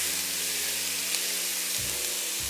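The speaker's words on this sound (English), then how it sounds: "we'll put our onion in, and our green pepper, and our celery" Onion, green pepper and celery hit a hot pot for corn and shrimp chowder, giving a steady, close sizzle of frying that holds evenly throughout with no talking.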